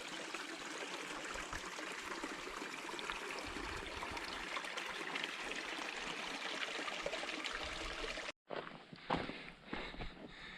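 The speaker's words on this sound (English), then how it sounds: "You can hear the water running." Water trickles and splashes steadily in a small canyon stream behind a parking lot in the Superstition Wilderness, close and continuous, with a few footsteps and a brief cut near the end.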